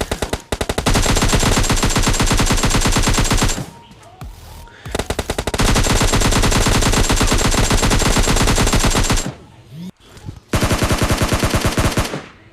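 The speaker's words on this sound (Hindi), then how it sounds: "अभी सामने बंदे होते हैं और वो फायर कर रहे होते हैं" Sustained automatic gunfire in the PUBG shooter game, an enemy firing in long, loud rapid bursts with two brief pauses, with no voices.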